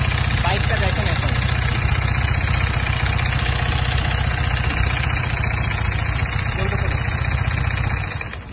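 A Yamaha R15 v3 motorcycle, freshly repaired clutch, runs at a steady idle with an even, close mechanical drone that holds throughout and dips slightly at the end.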